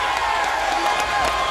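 A partisan boxing arena crowd roars and cheers after Adrien Broner's win over Khabib Allakhverdiev, a dense wash of cheering and applause with a commentator talking over it.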